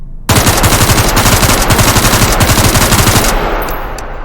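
Russian ADS amphibious rifle fired on full auto in one loud, close burst of rapid, evenly spaced shots lasting about three seconds, with echoes trailing off after the last round.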